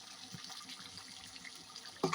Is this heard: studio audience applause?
no